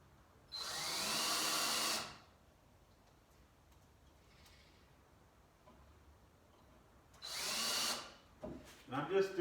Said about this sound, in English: where we left off before the phone rudely interrupted me is I was getting these screws in place